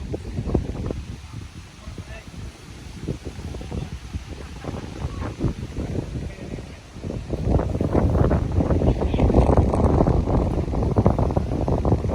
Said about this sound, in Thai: ลมมาแล้ว มืดไปเลยพี่น้องเอ้ย